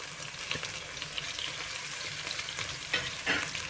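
Ginger garlic paste fried with onions in a pan for a broccoli fry, giving a continuous bright sizzle with a few soft stirring scrapes, close and steady, no voices.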